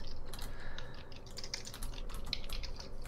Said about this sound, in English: Why are you smashing the keyboard so much?